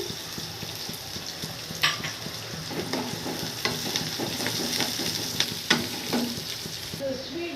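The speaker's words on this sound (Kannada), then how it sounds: "ಸ್ವಲ್ಪ ಫ್ರೈ ಆದರೆ ಸಾಕು ಈರುಳ್ಳಿ" Onions frying in a pan for khara pongal, with a steady sizzle and a few sharp scraping stirs, close and alone.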